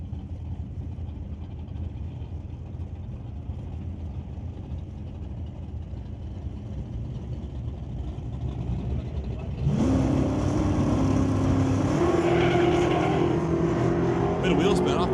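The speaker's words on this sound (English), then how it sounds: "Pair of Mustang Fox bodies, one from 88, one from 91." A pair of 1988 and 1991 Ford Mustang Fox body drag cars wait with a low engine rumble at a Super Pro drag race, then launch with a sudden loud, rising roar and some wheel spin heard from a distance.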